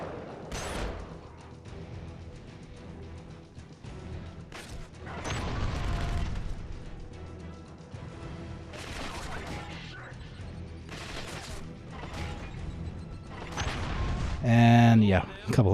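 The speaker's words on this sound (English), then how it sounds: "I don't really like the grenade launcher much at all." Grenade launcher firing and blasts going off in the shooter game Killzone Mercenary, several muffled booms and crashes spread across a busy battle mix, with someone talking throughout.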